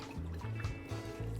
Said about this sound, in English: Can I have a little more red wine on this?